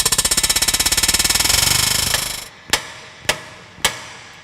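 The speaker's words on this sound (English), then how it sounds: "you actually use an air hammer" An air hammer works on a vehicle suspension taper, giving a fast loud rattling burst of rapid impacts that lasts about two seconds, followed by three separate sharp metallic hammer strikes.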